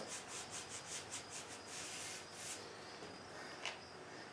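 A brush rubs varnish onto dry wood on a free old wooden boat, making soft, rhythmic scratchy strokes close by, fairly faint and alone, with one sharper scrape near the end.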